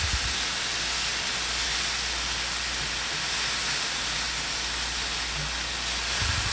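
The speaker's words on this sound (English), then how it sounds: "You just don't want to overcook the tomato, you just want it to have a beautiful sear" Tomato sizzles in a hot skillet for an English breakfast, a steady loud broadband hiss that continues without a break from start to finish.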